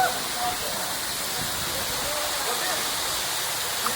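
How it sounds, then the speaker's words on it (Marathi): Waterfall at Mahuli fort roaring as a steady, broadband rush of falling water, continuous and close with no breaks. "आणि इकडे धबधबा त्याला तुमका दाखवते."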